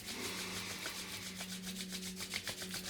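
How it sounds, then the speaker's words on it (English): Hands rubbing briskly together in steady, continuous back-and-forth strokes, a close, soft broadband friction sound with a slightly faster rhythm toward the end, heard alone with no talking. "So rub your hands,"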